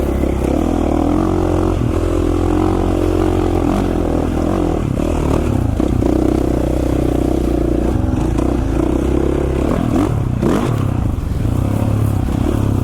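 A dirtbike motorcycle engine runs loud and continuous while riding over rocky ground, with rattling and scraping from the terrain and the rider working the clutch at slow speed.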